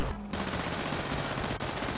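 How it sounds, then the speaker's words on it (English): Rapid automatic gunfire in a GTA roleplay firefight, a loud steady rattle of overlapping shots after a brief gap. "Oh, we're getting shot at."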